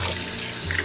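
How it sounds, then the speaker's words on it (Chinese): Tap water pours steadily into a sink while raw cod fillets are rinsed, a close, continuous broadband rush with no talk. "先把鳕鱼清洗干净"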